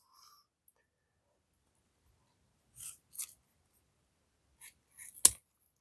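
Side cutters snip the wire ends of a homemade wire hose clamp, giving a few short, sharp clicks and cuts spaced out over quiet, with the crispest snap near the end.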